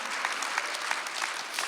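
A church congregation applauds with steady, dense clapping from many hands, continuing evenly throughout with no talk over it.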